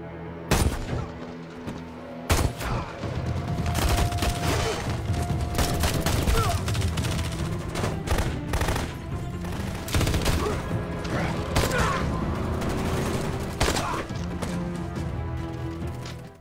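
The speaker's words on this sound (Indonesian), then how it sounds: "Jack pun langsung menyerang mereka dan baku tembak pun terjadi" Film gunfight against ATF agents and gangsters, with heavy bursts of gunfire and sharp shots cracking loudly over a dense, busy action soundtrack, a few isolated blasts at the start, then sustained firing.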